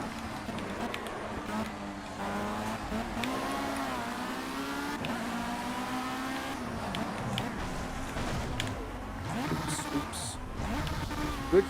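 Formula C race cars in Project CARS at Willow Springs Horse Thief Mile whine through rising and falling gear pulls, engine pitch sweeping up and down steadily for the whole stretch at moderate level, with a sharp bump near the end.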